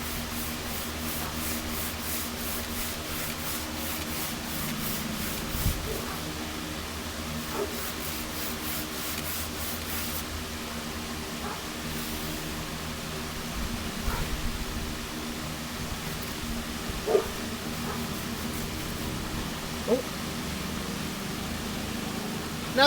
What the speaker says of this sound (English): you want to use a hand sander when it comes to doing this part right here